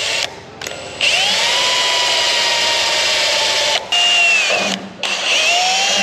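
A power drill fitted with a 1/8-inch pilot bit bores holes through a template for a dump trailer project, with loud sustained whining runs broken by brief pauses as the motor stops and restarts, close up and without talk.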